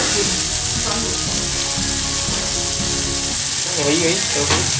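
Prawns fry in hot oil in a pan, a loud, steady sizzle close up with stirring scrapes and faint voices underneath.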